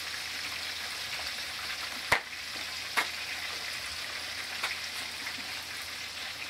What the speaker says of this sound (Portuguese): vamos deixar fritando aí